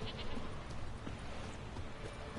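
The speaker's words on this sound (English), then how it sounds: "They're less like goats and more like wild sheep." Goats or wild sheep bleating in The Witcher 3, heard as a steady outdoor wash of ambient game sound with faint animal calls rising through it, no talking over it.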